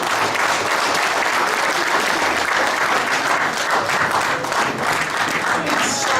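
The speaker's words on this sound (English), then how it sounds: "We give a better round of applause" An audience at a governing board members' induction programme applauds steadily, loud, dense clapping that holds without a break.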